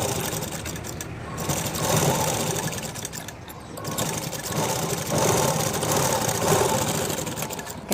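Sewing machine stitching a blouse, running steadily for several seconds with a continuous close whir and brief pauses where the motor slows, no voices over it.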